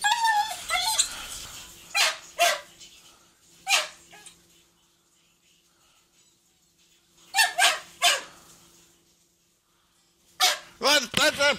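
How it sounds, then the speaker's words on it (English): A dog barks and whimpers in a room, sounding in several clusters of sharp barks and whiny yips with quiet stretches between them, and a phone line hum runs underneath. "Let that fucking dog out!"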